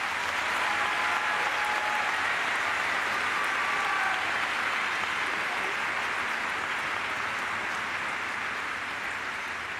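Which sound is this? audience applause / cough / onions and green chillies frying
audience applause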